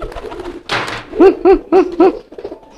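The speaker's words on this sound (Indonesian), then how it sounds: "Nah ini merpati kolongnya." Pigeons cooing close up, a rhythmic series of four or five soft, throaty coos in quick succession, preceded by a brief rustle and flutter.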